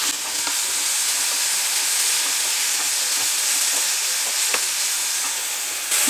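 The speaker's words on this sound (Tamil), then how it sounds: "ஒரு 5 நிமிஷம் அப்படியே வதக்கிடலாம்" Greens with tamarind, salt and coriander sautéing in a pan, giving a steady, close sizzle and frying hiss with faint stirring taps throughout.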